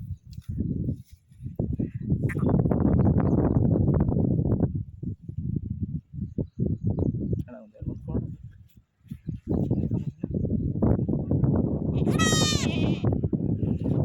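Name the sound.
bleating of newborn lamb or goat kid at sheep-goat farm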